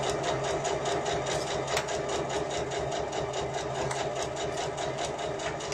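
Sewing machine stitching a Lola pouch around a curve, a steady fast mechanical chatter of needle strokes running continuously and close, with no talk.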